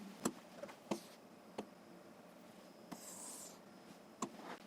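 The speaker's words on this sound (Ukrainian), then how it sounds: "Зараз через ці дві точки проводимо пряму." A pen draws a straight line through two points on paper for an algebra exercise, leaving a few faint, brief scratching strokes in a quiet room.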